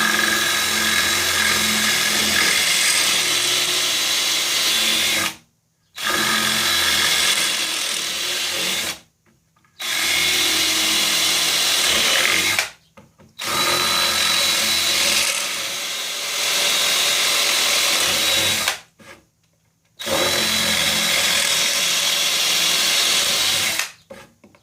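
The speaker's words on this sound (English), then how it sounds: "Then I'm going back in with a 5/16 drill bit" A drill grinds loudly through material with a 5/16 drill bit in long bursts, stopping briefly between each of five steady runs, close and continuous.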